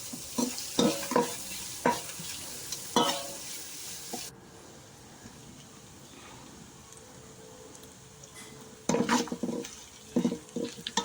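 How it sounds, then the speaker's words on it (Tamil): Green chilies and onions sautéing in a pan for chicken leg biryani, with a metal spoon scraping and stirring in bursts, a quiet sizzle filling the pause between them, and the stirring resuming near the end. "அதுக்கப்புறம் 2 பச்சை மிளகா போட்டுக்கலாம். நல்லா வதக்கி விட்டுக்கலாம்."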